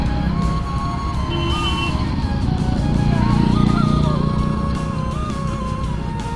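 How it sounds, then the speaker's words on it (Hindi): Many motorcycles ride in an Independence Day group ride, engines droning and shifting pitch as bikes pass nearby in a continuous, fairly loud stream. "देखो कितना सारा बाइक है।"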